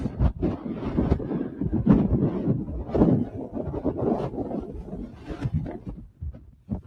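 Gusty wind buffets the microphone on a hillside near the Hermit's Cave rock, with irregular rumbling bursts rising and falling in strength throughout.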